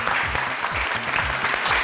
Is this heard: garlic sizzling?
no